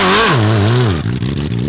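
A jet ski engine, run wide open on an icy track, roars loud and close, its pitch sweeping down and then wavering as it labors against its gearing.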